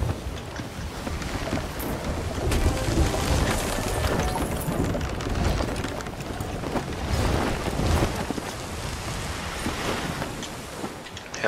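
Strong wind buffets a sailing boat out on open water, a loud, continuous rushing roar that swells and eases across the stretch, with gusty bursts and no clear talk.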